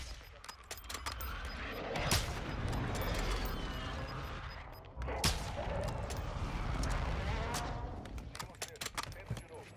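Gunfire from a sniper rifle echoes through a shooter video game match, loud cracking shots with rattling bursts and mechanical clicks mixed in, while players talk over the action.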